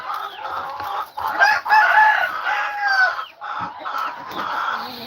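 A rooster on a farm crows loudly and close, a few drawn-out calls with hens clucking around it and no talk over them.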